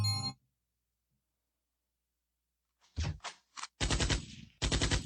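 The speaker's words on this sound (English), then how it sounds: "You got to have a machine gun," Machine gun firing effect played from a RØDEcaster Pro: after a quiet gap, a few sharp separate shots crack out, then two long loud rattling bursts of rapid fire close out the clip.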